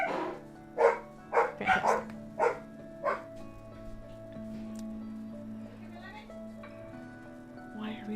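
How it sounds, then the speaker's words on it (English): Dogs bark in a quick burst of sharp yips and barks behind a closed door, then fall into softer whining, with a voice speaking briefly and a steady hum underneath. "I closed my door and the dogs immediately start screaming"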